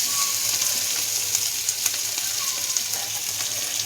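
Paneer cubes with capsicum frying in a hot pan with a little water, giving a steady, dense sizzle that stays even and close throughout, with no voices.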